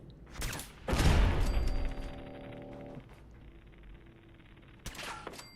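Gunfire in a firefight with gunners in Fallout 4, a loud burst of shots and a booming impact early on, then a ringing mechanical hum and a couple of sharper hits toward the end.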